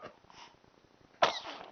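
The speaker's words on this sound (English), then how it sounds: "Bless you, big sneezy." A baby gives a single sharp, close sneeze that bursts out loud after a stretch of soft background.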